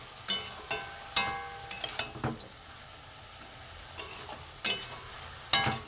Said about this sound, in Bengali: একটু নাড়বো ভালো করে।